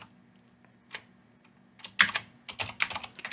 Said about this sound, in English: I'm going to press my tab key